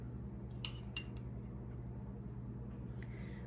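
Measuring spoons clink against a mixing bowl as baking powder and salt are added to flour, a few light metallic taps early on and a faint one near the end over a low background hum.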